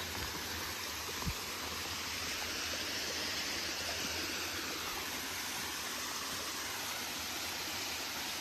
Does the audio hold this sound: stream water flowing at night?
yes